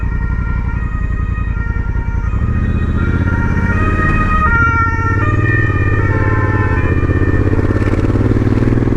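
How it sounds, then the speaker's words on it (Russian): An ambulance siren wails on the road alongside the steady engine drone of an Aprilia Tuareg 660 motorcycle, the rising and falling tones loud and close, continuous throughout with no talk. "И мы поедем за скорой помощью."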